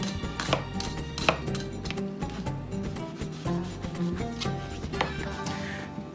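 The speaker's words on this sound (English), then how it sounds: "So what you wanna do is cut a whole onion." A knife chops a whole onion on a cutting board, with repeated sharp, uneven taps over steady background music.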